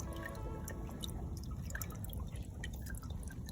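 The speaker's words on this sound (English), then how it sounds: "I wish you could just cut off the water." Water runs and drips steadily while panning for gold outdoors, a soft continuous trickle with scattered close droplet splashes, faint and unbroken for several seconds.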